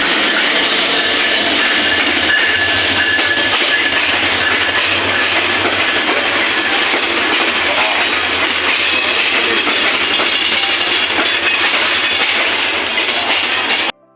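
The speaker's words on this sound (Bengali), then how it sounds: "2023 সিরিজের লোকোমোটিভ আসতেছে" The Kurigram Express, a passenger train hauled by a 2023-series locomotive, arrives at Joypurhat station in northern Bangladesh. A loud, steady roar of rolling wheels and rumbling carriages fills the whole stretch, with a faint rhythmic clatter underneath, then cuts off abruptly at the end.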